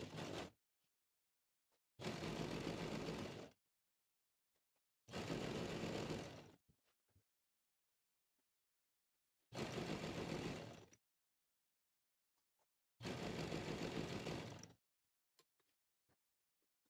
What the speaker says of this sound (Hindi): यहाँ से सिलाई को पक्का करके आपने सिलाई लगाते जाना है